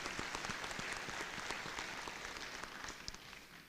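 A conference audience at an Internet Governance Forum session applauds, many hands clapping in a dense, moderately faint patter that tapers off toward the end.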